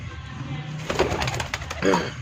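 A Kasuri red-eyed pigeon coos softly a couple of times at close range over low background noise.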